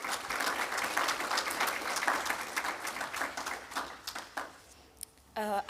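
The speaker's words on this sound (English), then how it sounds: "So a round of applause for our ushers." Audience applause at a Zimbabwean actuarial society convention, a steady wash of many hands clapping for several seconds that thins out toward the end, with a brief voice or tone at the close.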